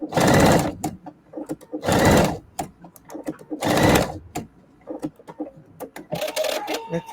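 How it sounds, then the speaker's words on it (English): A sewing machine runs a quick stitch in three loud, separate bursts of rapid whirring, then a series of short clicks and brief whirs; no speech. "Let's do a quick stitch."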